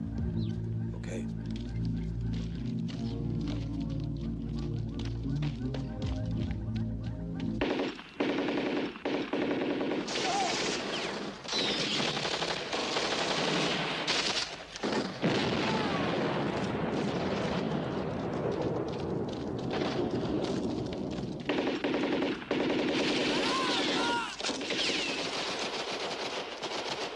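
Sustained machine gun fire and explosions in an action movie battle scene, loud and continuous, with dense rapid bursts and booming blasts over a music score, with no clear talking.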